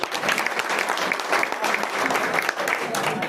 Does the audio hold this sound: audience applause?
yes